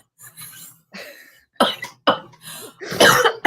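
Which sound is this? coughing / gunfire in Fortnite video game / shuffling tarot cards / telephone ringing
coughing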